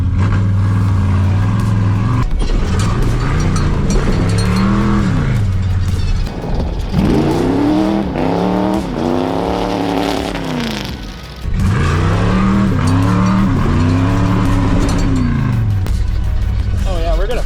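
A Ford Galaxie with a blown transmission races, its engine revving loudly in repeated rising and falling sweeps with brief lifts between them, close by, with voices talking over it at times.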